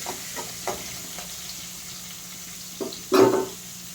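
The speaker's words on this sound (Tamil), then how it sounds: "சின்ன வெங்காயங்களை நல்லா உரித்து அப்படியே முழுசாகவே போடுங்க அந்த எண்ணெயில் போட்டு வதக்குங்க" Whole peeled shallots sauté in hot oil for a drumstick leaf kootu, giving a soft, steady sizzle with a few light stirring scrapes and a louder burst of frying near the end.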